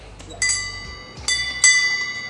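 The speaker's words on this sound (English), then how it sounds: "Yeah, ring the bell." Bright metallic dings from a small restaurant service bell, struck three times with ringing tones that linger, over low room noise.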